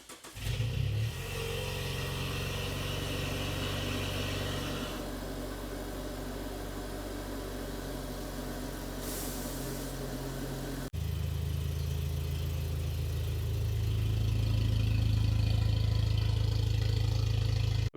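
Toyota Tacoma pickup engine running as it pulls into a garage, a steady low idle with light revving, a sharp cut partway through, then a louder, closer engine drone building toward the end.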